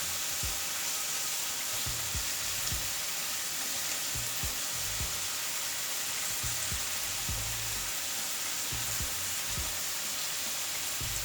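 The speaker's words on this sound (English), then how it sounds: "Now I'm going to add the sweet and sour sauce." Sweet and sour sauce hitting a hot pan of stir-fry cauliflower with onion and soy sauce, giving a loud, steady sizzle with scattered stirring scrapes and pops throughout, no voices.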